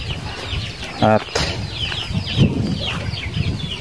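Two chickens that got loose near duck pens on a backyard farm give a sharp cluck and flap their wings. Rustling and soft scuffs follow, with a person talking nearby.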